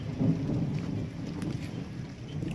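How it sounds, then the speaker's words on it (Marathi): Steady heavy rain hissing with a deep rumbling, wind-like roar underneath, continuous and fairly close, with no voices. "तिकडं बघा किती पाऊस चालू आहे"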